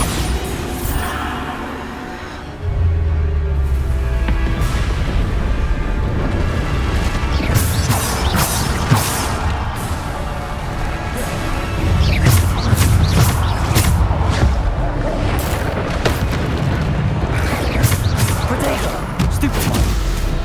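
Repeated Bombarda blasting-spell explosions ring out in the Hogwarts Legacy video game, a dense run of loud booms and crashing bursts over constant combat noise, with several sharp impacts stacking in quick succession.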